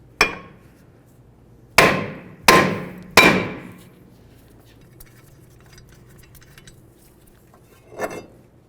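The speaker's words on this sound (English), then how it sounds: "I'm going to give this a couple loving bonks just around the areas" A hammer strikes the front brake rotor of a 2011-2016 Hyundai Elantra: a lone bang, then three evenly spaced ringing blows, and later a softer final hit, each echoing metallically.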